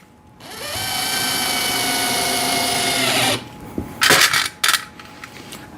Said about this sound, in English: Okay, so that's drilled nice and together, so you can see those screws in there.